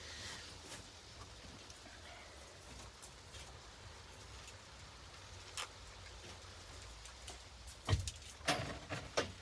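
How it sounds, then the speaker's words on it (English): Steady rain patters on a greenhouse roof as a soft, continuous hiss, with a few sharper, louder drops and knocks near the end. "I'm quite grateful we have the greenhouse, that I can just hide in here while it rains"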